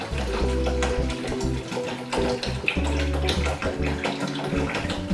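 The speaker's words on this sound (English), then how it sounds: "I'm going to add some more water to it because it's boiled down some." Water pours into a pot of tea leaves that has boiled down, a steady running splash under a droning harmonic background with no talk.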